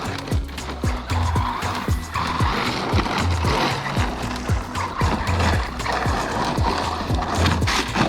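An MJX 7304 Polo WRC remote-control rally car with four-wheel drive runs over gravel and dirt, its small motor whining as loose stones crunch and scatter continuously under the tires, close and fairly loud throughout.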